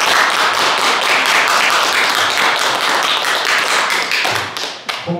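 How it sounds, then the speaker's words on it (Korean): An audience claps for a lecturer at a talk in Gwangju, a loud, dense, steady burst of many hands that continues evenly and then breaks off abruptly near the end. "선생님께 큰 박수"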